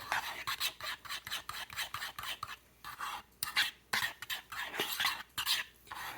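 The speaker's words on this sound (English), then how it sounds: "Okay, so I'll just mix all of that in there." A sautéed onion, carrot and garlic mixture for cabbage wraps is mixed by hand, making steady rhythmic scraping and rubbing strokes, close and moderately loud, repeating without pause and with no speech.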